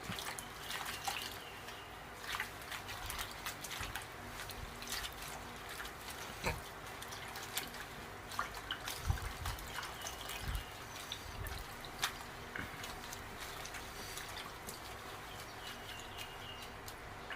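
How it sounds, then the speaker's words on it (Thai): Chopped dok khae flowers are washed in water, giving faint, steady trickling and dripping with scattered soft splashes and small knocks, quiet and close, with no talking. "ไปล้างน้ำให้สะอาดครับ"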